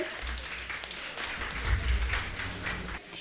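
A studio audience applauds at a talk show, a steady patter of clapping that swells slightly in the middle before tapering off near the end.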